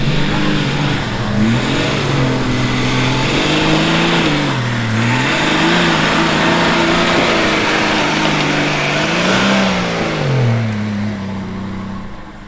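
A Nissan Patrol off-road vehicle engine revs loudly and close, its pitch rising and falling in repeated surges as it works over rough terrain, with no talk.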